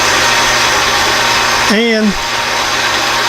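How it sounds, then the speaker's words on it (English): A power saw rough-cuts metal bar stock in a home machine shop, a steady loud whine that runs throughout, briefly dipping as a voice speaks over it. "right now, I'm sawing up another piece here, rough sawing it so I can machine it"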